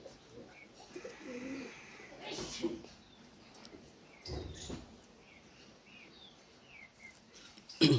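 Pakistani teddy and golden pigeons coo softly in a loft, with low intermittent cooing under background noise and a few faint chirps, ending in a brief louder thump.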